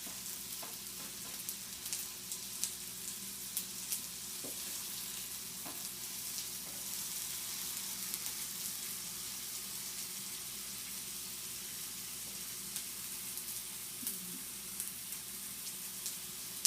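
Bacon frying in a pan, a steady soft sizzle and crackle with scattered small pops, continuous and fairly faint.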